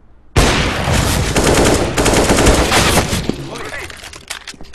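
Rapid bursts of Counter-Strike: Global Offensive gunfire, loud and dense, with sharp repeated shots over a few seconds, then quieter scattered pops as it trails off.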